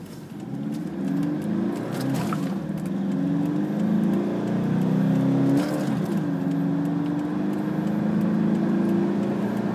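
A drift car pulls hard in fourth gear, its engine revving steadily upward from around 3,000 toward 4,000 rpm. The loud, continuous drone climbs in pitch across the whole stretch with no talk over it.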